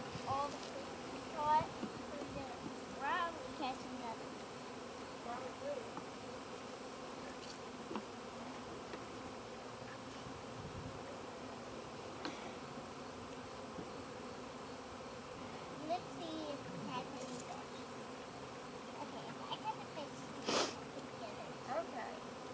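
A July swarm of honeybees buzzes continuously in an outdoor setting, a dense, steady drone with occasional louder passes near the microphone, while people talk intermittently over it.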